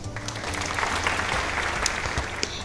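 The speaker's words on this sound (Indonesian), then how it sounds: "Ayo beri tepuk tangan yang meriah untuk Jerome." A classroom of students claps for a classmate named Jerome, a lively patter of hands with a few sharper individual claps and faint voices mixed in.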